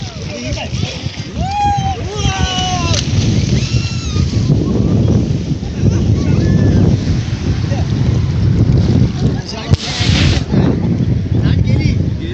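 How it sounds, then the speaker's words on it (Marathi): Sea waves wash up on the beach at Alibag, a broad continuous surge under strong wind buffeting, with people's voices calling out over the surf throughout. "हे पण लाट आली बरं राजेश राजेश लाट आली बरं"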